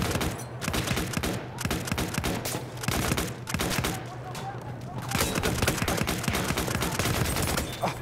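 Battlefield 1 online Conquest battle at Amiens, with rapid, continuous gunfire in dense, loud bursts that barely pause over eight seconds, several weapons firing at once close by.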